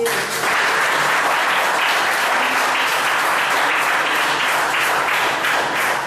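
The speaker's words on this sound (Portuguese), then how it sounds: "Você pode dar uma salva de palmas?" An audience at a church service bursts into sustained applause, many hands clapping loudly and densely for several seconds before tapering slightly near the end.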